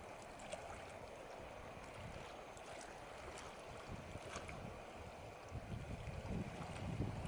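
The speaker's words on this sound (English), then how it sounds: "you can hear the water" Water flowing at night in the New South Wales bush during a bushfire, a faint, steady wash with light wind and occasional louder surges near the end.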